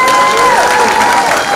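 An audience at a festival performance applauds and cheers loudly and continuously for a short burst, with crowd voices mixed into the clapping.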